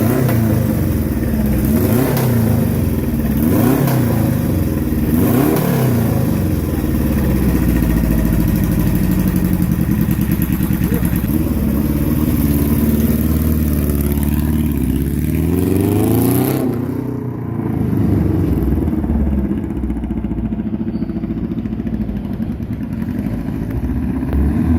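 A Laverda Jota 1000 three-cylinder motorcycle engine with a 180-degree crankshaft revs loudly and repeatedly, rising and falling close up, then settles to a rougher, steadier idle after a sudden shift.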